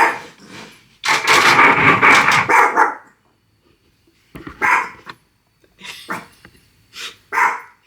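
A dog barks loudly and close by in a home, first in a long, frantic burst, then in several shorter yelps and barks after a pause, with no talking.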